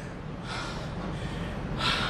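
A patient draws two slow, deep breaths close to the microphone during a chest examination, airy and hissing, separated by a short pause.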